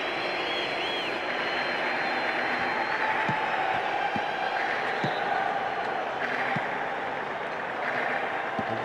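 Crowd noise from a PES 2009 football video game match, Iran vs Nigeria, a continuous roar of cheering and applause from the stands, steady and fairly loud, with no distinct voices standing out.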